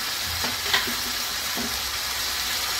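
Chicken with salt and spice stirred in a frying pan, a steady sizzle throughout with a few soft scrapes of the spatula, close and continuous with no talking.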